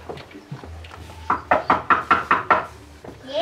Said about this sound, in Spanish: Caperucita Roja golpeó la puerta.